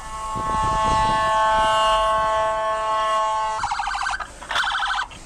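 A loud wailing Philadelphia ambulance siren holds steady, then breaks into a choppy, pulsing yelp near the end, close by.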